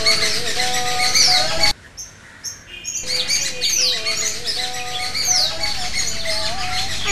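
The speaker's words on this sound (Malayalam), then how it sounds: "എത്ര കിളികളാ വരുന്നത്!" A flock of cartoon birds chirps and tweets in a busy, continuous chorus, with short whistled calls, dipping briefly quieter partway through.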